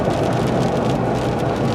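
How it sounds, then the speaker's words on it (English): Rain falls steadily after a night-long downpour, a dense, even hiss with no breaks or voices. "it has rained almost all night"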